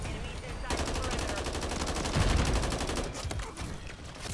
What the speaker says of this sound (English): Remote turret.